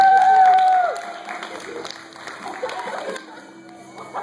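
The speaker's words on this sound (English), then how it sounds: "Give a big round of applause." A university audience at a hypnotist's show claps in a brief loud burst that fades within a second, followed by scattered murmurs and movement.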